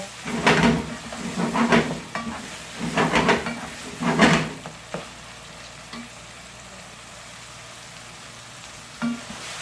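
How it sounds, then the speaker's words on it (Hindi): Minced chicken keema fries in a pan with a little salt. Loud sizzling and stirring come in rhythmic bursts for about five seconds, then drop to a faint simmer with an occasional single clatter. "इसको तकरीबन 2 मिनट जो है फ्राई करते हैं अच्छा सा"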